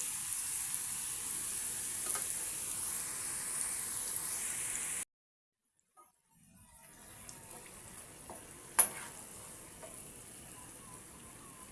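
Wheat flour chips sizzle in deep oil with a faint, steady hiss that cuts out briefly, then comes back softer, with one sharp clink partway through.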